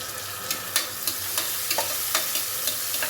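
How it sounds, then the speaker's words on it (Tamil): Small onions, crushed garlic and curry leaves sauté in a pan, with a constant close sizzle punctuated by quick, regular clicks of a spoon stirring against the pan. "இப்போ வெங்காயம் வதங்கிட்டுருக்கு"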